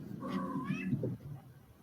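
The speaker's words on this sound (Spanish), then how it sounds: "Ahí el gato responde." A cat meows once, a clear, fairly close drawn-out call that wavers in pitch and then fades into quiet room tone.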